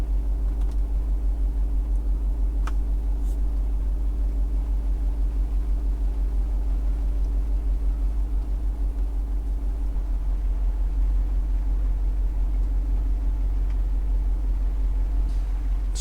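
A Jeep 392 V8 with the sport exhaust switched on runs while the vehicle is driven off-road in hot weather. The engine gives a steady low rumble and drone under the cabin, constant and even throughout with no talk.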